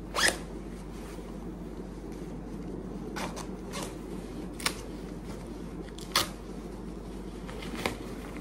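A windbreaker jacket being unzipped, giving several short, sharp zipper rasps spread across a quiet indoor background, with no talking.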